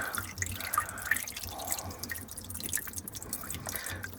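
Pink antifreeze drips from an OMC boat engine block during winterizing, leaving a few soft, close drips over a faint low hum.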